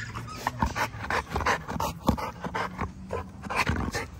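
A pet puppy panting close by in quick, rhythmic bursts of breath, steady and fairly loud, with no talking over it.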